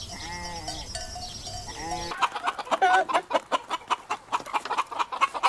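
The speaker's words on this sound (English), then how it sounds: "cock" A rooster gives a drawn-out harmonic crow, then breaks into a run of rapid, loud clucking bursts from nearby chickens, with no talking.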